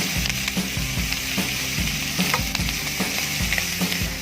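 Duck larb frying in just a little oil, a loud close sizzle with rhythmic stirring or tossing strokes repeating about every second, no voices over it.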